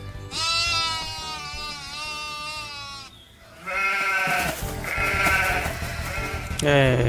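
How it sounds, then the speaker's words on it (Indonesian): Sheep bleats during a Christmas event in the video game BC, with a long wavering bleat followed by two shorter calls and another at the end, heard clearly with a person talking. "di sini ada suara kambing. Domba. Kita dengerin suaranya."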